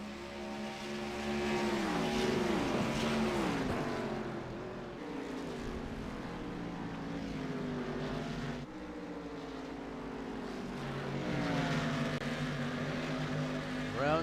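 Sim race cars in iRacing's CTS series at Mid-Ohio drone loudly throughout, with engine pitch rising and falling as they shift and corner, one car hounding the leader closely and drifting hard through the final minute.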